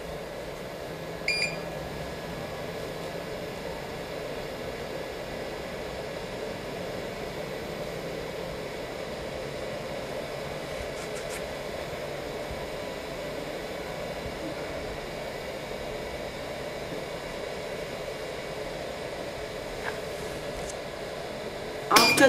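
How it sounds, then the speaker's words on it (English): A 3D sublimation machine runs its vacuum with a steady, unbroken mechanical hum and airy rush, with a few faint beeps near the start and end. "Cover the machine and press vacuum."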